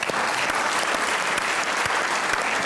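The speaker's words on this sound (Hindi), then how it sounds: "आपकी भरपूर तालियों में बुलाएंगे सलमान गिलानी।" A studio audience on a TV talk show applauds to welcome a guest, dense, loud, continuous clapping from many hands throughout, with no voices standing out.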